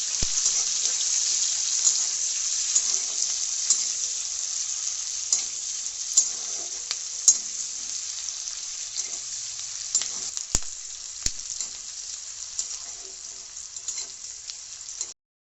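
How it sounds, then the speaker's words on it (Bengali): Chopped onions and two bay leaves fry in hot oil in a kadai for ghugni, a steady close crackling sizzle with occasional stirring clicks and scrapes throughout. "এবার ওই তেলের মধ্যে দুটো তেজপাতা এবং কুটে রাখা পেঁয়াজগুলো দিয়ে ভালো করে একটু ভেজে নিতে হবে।"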